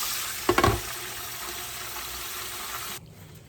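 Steady close hiss of chicken frying and sizzling in grease, with a brief cluster of clatter near the start before the sizzle cuts out abruptly near the end.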